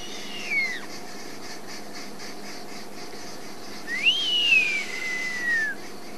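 Verreaux's eagle owl giving two whistling calls, a short downward-sliding whistle and then a longer drawn-out whistle that rises and slowly falls, heard at moderate distance over a steady outdoor background hiss.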